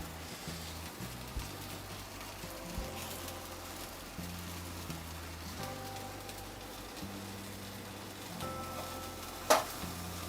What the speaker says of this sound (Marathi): असं सगळ्या बाजूनं बघा पलटी करून भाजून घ्यायचं.